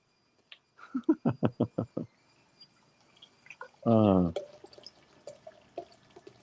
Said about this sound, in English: Just need a seltzer water refill here